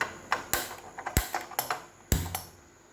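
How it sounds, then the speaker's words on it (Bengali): A kitchen gas stove's igniter gives several sharp, close clicks at uneven intervals while being lit to fry chicken pakoras, with no talking. "আমি এবার গ্যাসটা জ্বেলে নেব।"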